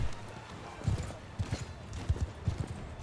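Horse hooves galloping in Mount & Blade 2 Bannerlord, a rhythmic run of low, close clip-clop thuds repeating steadily throughout over a faint ambient bed.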